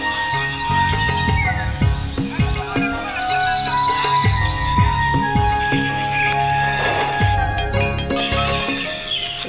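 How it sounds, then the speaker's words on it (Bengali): Morning birdsong in lush green countryside: a dense, steady chorus of chirps and tweets at moderate loudness, with overlapping calls continuing throughout and no clear pauses. "পাখির কিচিরমিচির শব্দ"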